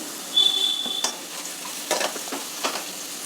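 Onions frying in oil in a pan while upma is made from rice rava, a soft steady sizzle with a spoon stirring and scraping in several short strokes.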